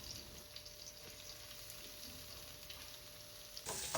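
Onions frying in a pan with green chillies and curry leaves for a sweet potato upma, giving a steady soft sizzle throughout with a brighter, louder burst of crackling at the very end.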